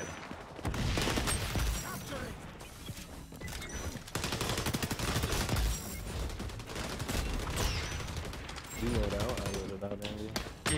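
Rapid video game gunfire from an AK rifle, dense repeated bursts of shots that are loud and sustained across the whole stretch, with short pauses between volleys.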